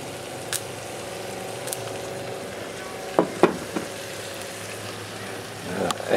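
Potatoes going into a pan of cooked ground beef for tacos set off a steady, low sizzle close by, with a few sharper scraping and clattering bursts as they land and are moved; no one speaks.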